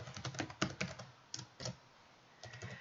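Typing on a computer keyboard at a console: a few quick bursts of light key clicks, close and fairly quiet, separated by short pauses, with no voices.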